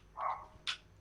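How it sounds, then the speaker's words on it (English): A dog barks twice in quick succession in the background, a short mid-pitched yap followed by a sharper, higher one, faint and somewhat distant in a quiet room. "Okay, that is my dog."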